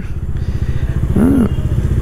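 A motorcycle engine putters steadily at close range, with a brief higher tone sliding up and down partway through, like a passing horn or whine.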